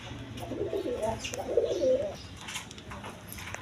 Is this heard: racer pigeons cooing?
yes